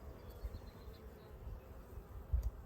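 Honeybees humming inside the hive of a new package colony during an inspection, a faint, steady low buzz with a few soft bumps and knocks near the end and no talking.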